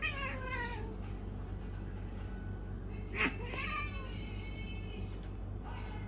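Cats fighting indoors let out several loud, drawn-out meows and yowls, with one sharp cry in the middle, over a steady low hum.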